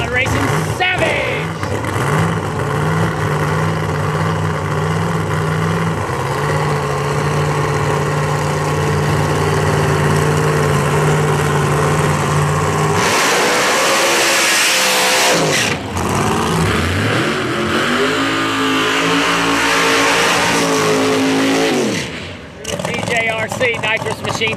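Pilot Racing Savage drag racing car at Flying H Dragstrip in Odessa, Missouri, during Thursday testing, its engine idling loudly with revs and a roaring burst midway, under a track announcer's voice.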